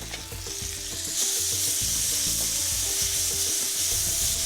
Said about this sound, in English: I'm going to put this beef in to stop the garlic browning